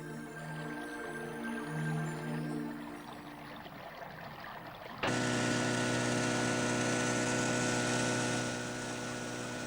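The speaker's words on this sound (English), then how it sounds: "An outboard motor is not a traditional Indian sound." A steady outboard motor drones throughout, then abruptly grows louder and harsher midway, a constant close mechanical whine with no voices.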